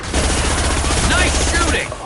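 Rapid bursts of video game gunfire, a dense fusillade of automatic shots rattling loudly and continuously for about two seconds, with faint voices mixed underneath.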